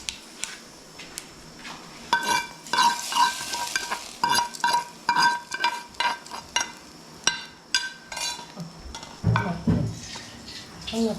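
Mustard seed and dried chilli tempering poured into a wok of Kerala-style curry, giving a burst of crackling sizzle followed by repeated scraping stirs of a spoon against the pan, close and fairly loud with no talking.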